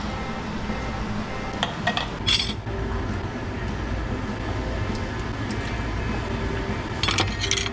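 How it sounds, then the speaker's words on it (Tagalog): Stirring tomato sauce in a cooking pot, with a steady sizzling wash broken by a few close metallic clinks of a utensil against the pot. "Haluan ko ng tomato sauce. Bubuhos ko na dito."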